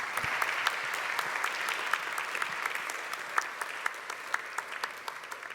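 An audience applauds the panelists at a church seminar webinar: steady, dense clapping from a sizable crowd, moderately loud and continuous throughout with no voices over it.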